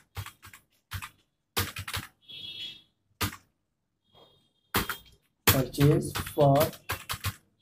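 Bursts of clicking keys on a computer keyboard come in short quick runs separated by pauses during Tally accounting data entry, close and crisp, with someone speaking in between and over some of the typing.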